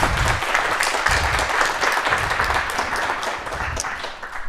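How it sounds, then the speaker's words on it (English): An audience at a design talk claps steadily after the presentation, a dense, full round of applause that carries on throughout with no voices standing out. "can I do one more round of applause for Tim?"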